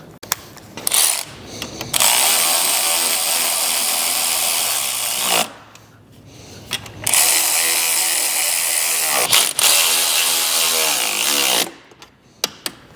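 A power ratchet working bolts under a 28-year-old Cougar 550 snowmobile: two long, loud, steady whirring runs close by, separated by short pauses and a quick clicking burst.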